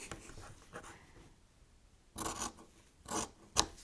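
Small scraps of fabric being trimmed for English paper piecing hexagons, a few short rasping snips and cuts close by, in bursts separated by quiet pauses.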